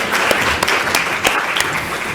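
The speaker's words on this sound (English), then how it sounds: "Let's offer a final round of applause to our speakers for this session." Audience applause for the speakers at the close of a session at a public event on diet and healthy weight, a steady dense wash of clapping hands filling the room from start to finish.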